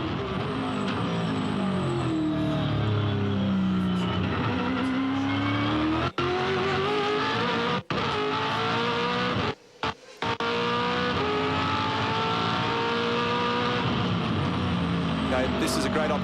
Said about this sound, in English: have a look and a listen at a good, hard, fast lap around this racetrack